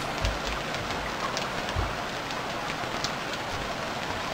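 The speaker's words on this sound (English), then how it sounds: "Holy shit, the rain." Steady hiss of heavy rain pouring down in the survival video game Stranded Deep, a dense, unbroken wash with a few soft low thumps.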